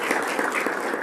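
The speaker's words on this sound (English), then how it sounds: "give a round of applause to our" An audience at a welcome address applauding, a steady wash of many hands clapping in a large room, moderately loud and sustained through the moment.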